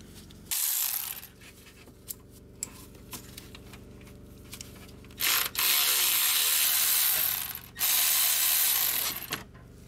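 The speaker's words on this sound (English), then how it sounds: "I'm gonna undo this bolt up here first." A ratchet wrench clicks while undoing an intake manifold bolt on a Mercedes Sprinter engine, with scattered close ticks and then two longer bursts of rapid ratcheting, no talking.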